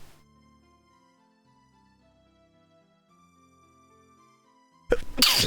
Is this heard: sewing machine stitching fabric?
no